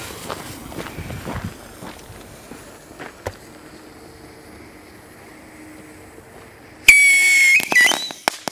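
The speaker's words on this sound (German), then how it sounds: "Pfeifrakete von Keller." A short, thin whistle rises from a Keller whistling rocket firework amid crackling and hissing, preceded by quiet outdoor rustling and a few soft knocks.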